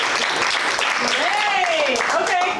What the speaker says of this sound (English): Clap your hands if you've been.